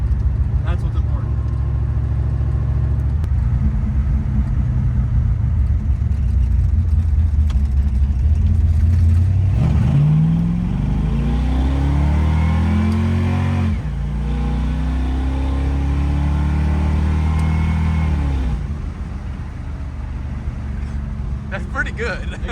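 A revived high school car accelerates off the line, its engine loud and near, rising in pitch through a labored pull with a torque converter that is far too tight, then settling back down.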